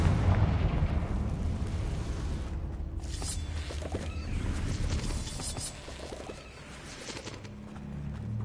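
Confringo blasting curse explosions in the Hogwarts Legacy video game, a dense run of booming, crackling blasts with low rumble across the whole stretch, loud and continuous, with no talk over them.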